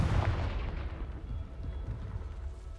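A Confringo blasting spell explodes in the Hogwarts Legacy video game, a single deep boom with a rumbling tail that fades over a few seconds.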